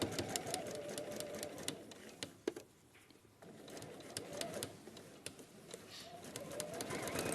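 Sewing machine stitching a quarter-inch seam allowance, a close, busy rattling hum with fast needle clatter that pauses briefly midway and then resumes, with no speech.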